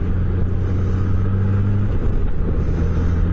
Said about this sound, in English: Dump trucks.